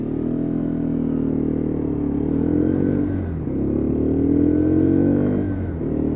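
A Lexmoto Venom 125cc motorcycle carrying a 13 stone rider labours up a steep 1-in-8 hill, its engine droning loud and steady with rising and falling pitch as it strains and shifts, no talk over it.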